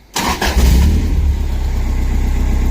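A car engine run by a Link G4+ standalone ECU fires up abruptly and loud, then settles into a close, steady, rhythmic idle thrum.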